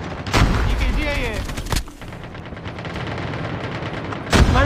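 Gunfire in a shooter video game: a loud burst of shots opens, a single sharp crack follows, and another burst comes near the end, with steady game noise in between and no voices.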